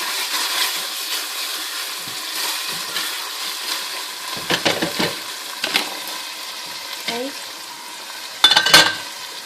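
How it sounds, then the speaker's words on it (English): Onions and ginger cook in a pan for a chicken curry, a steady soft sizzle with occasional louder scrapes and clatters of stirring, the last near the end. "Literally just cooking the onions and ginger through."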